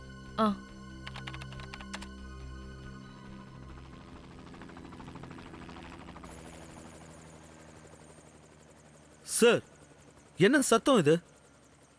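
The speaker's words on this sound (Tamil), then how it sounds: "ஹெலிகாப்டர் சத்தம் மாதிரி இருக்குல்ல?" A steady low mechanical drone with a faint rhythmic flutter runs throughout, like a distant helicopter, while voices speak briefly at the start and near the end.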